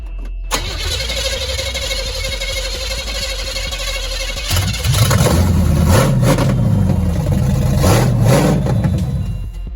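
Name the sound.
1978 Chevy Nova engine cranking, starting and revving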